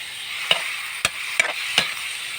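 Vinegar-dressed bamboo shoots being stirred for a pickle give about four crisp, separate utensil scrapes over a soft, steady hiss. The sound is close, with no talking.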